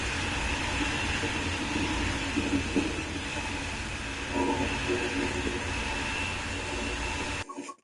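A Deutsche Bahn ICE train in Train Sim World 5 on the Kassel-Würzburg line gives a steady, loud interior rumble and hum with a high whine, continuous throughout before cutting off abruptly at the end.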